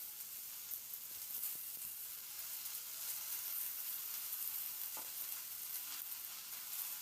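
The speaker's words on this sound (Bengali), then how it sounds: "এরপর আমি এখানে কেটে রাখা পালং শাকটা দিয়ে দিচ্ছি" Chopped spinach is tipped into vegetables frying in a pan, giving a steady, soft sizzle with a few faint knocks and scrapes, close by and with no voices.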